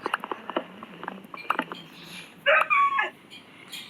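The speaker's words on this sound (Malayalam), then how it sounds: "കണ്ടോ, ഒരു പട്ടിയായിരുന്നു." A dog gives a short burst of barking or yelping around a wooded area where trees are being cut, a brief loud cluster after scattered rustling and light knocking.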